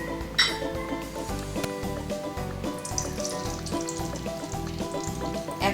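Mustard oil heats in a kadai, giving a moderate crackling sizzle beneath frequent metallic clinks and scrapes of utensils against the pan, with a brief splash of louder sputtering early on.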